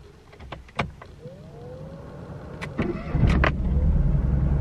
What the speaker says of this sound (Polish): Na jeden obrót odpala.